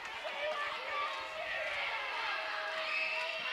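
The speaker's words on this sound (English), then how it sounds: "Leake crowd unhappy about that as well" Unhappy home crowd at a Leake Academy high school basketball district semifinal, a sustained murmur of boos and raised voices echoing through the gym, with a few louder shouts standing out from the babble.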